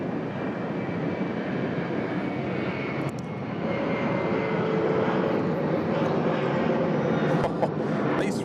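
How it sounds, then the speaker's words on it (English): A jet airliner taking off from Sydney Airport, a loud, steady broadband engine roar that holds throughout with no talk. "These 3-4 right departures, I'll tell you, they're pretty noisy."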